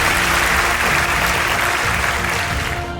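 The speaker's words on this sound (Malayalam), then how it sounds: "ജനസാഗരം ഒന്നടങ്കം കൈയടിച്ചു" A large audience bursts into sustained, steady applause at a Manorama Merit Day student awards event in Ernakulam, the dense clapping holding loud and even throughout with no talk over it.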